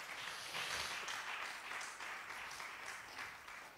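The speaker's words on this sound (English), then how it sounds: "if you are clapping, do it better." Church congregation at a Friday Bible study hour clapping in a steady, continuous wash of applause, heard faintly and at a distance with no clear talk over it.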